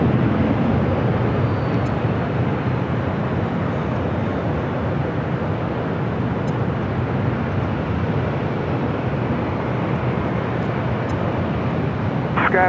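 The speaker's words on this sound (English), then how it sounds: "Next takeoff is Southwest Airlines flight 556 heading to Vegas" Southwest Airlines Boeing 737-800 taking off at LAX bound for Las Vegas, a broad continuous jet engine roar that holds steady and fairly loud for the whole stretch, with faint ticks and no talking.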